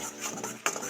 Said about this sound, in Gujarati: આ રીતે આપણે થોડું થોડું દૂધ નાખીશું અને એને હલાવીશું.